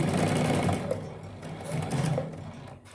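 A sewing machine runs a narrow hem along thin, lightweight fabric, its motor whirring steadily and close by for the whole stretch, with a slight dip in loudness near the end.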